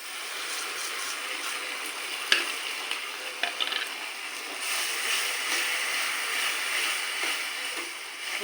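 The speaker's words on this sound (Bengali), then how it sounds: "এই কুচানো পেঁয়াজগুলোকে দিয়ে দেব। যে পেস্ট করে রেখেছিলাম সেই পেস্টটা আমি দিয়ে দেব।" Chopped onions and spice paste fry in a pan with a continuous soft sizzle, broken by a few sharp clicks and scrapes from stirring. No one speaks.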